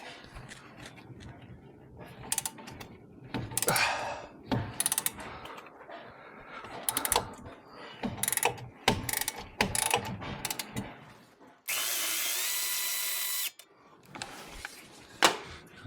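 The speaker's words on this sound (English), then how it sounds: "I'm going to go in with a socket because it's just easier" A socket wrench ratchets on the lower control arm of a Porsche 911 996, with close clicking bursts, clanks from metal parts and a brief steady hiss partway through.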